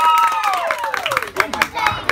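Birthday party guests from Puerto Rico are applauded: scattered claps and crowd noise run under a loud voice and a whistle-like sliding tone.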